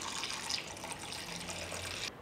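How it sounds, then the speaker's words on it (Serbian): Warm water poured into a cooking pot lined with a cloth and packed with glass jars, a steady close splashing trickle lasting about two seconds. "I u šerpu ću naliti toplu vodu do visine poklopca."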